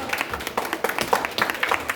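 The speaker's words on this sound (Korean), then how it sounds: "박수." A middle-school church youth group gives a short round of applause, scattered individual claps close by and uneven in rhythm, some louder hits standing out from the patter.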